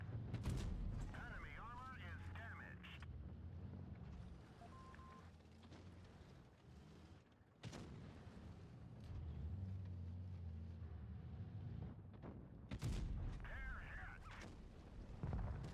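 Tank cannon shots fire in World of Tanks Blitz, three sharp loud blasts spread across the stretch, each with a ringing tail, over a low engine rumble and continuous game background noise.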